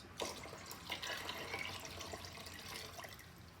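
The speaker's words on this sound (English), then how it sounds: "So I'm putting in some water, about 2 liters." Tap water runs steadily into a container for dyeing yarn, about two liters poured in a continuous splashing stream, close and fairly quiet, with no talking.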